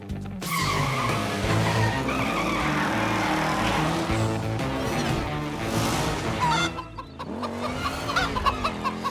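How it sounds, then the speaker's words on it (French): A runaway turbo tire in a cartoon skids and screeches, with a sustained loud squealing rush for most of the clip that briefly drops out, then resumes with scattered cartoon effects. "Il faut qu'on arrête ce turbo-pneu avant qu'il ne détruise toute la planète."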